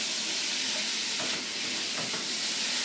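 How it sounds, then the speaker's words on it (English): Beef browns, sizzling and crackling steadily in a hot pan with peppers and garlic, a constant loud hiss with a few stirring scrapes, no talking. "now I'm going to go ahead and add the beef and brown that"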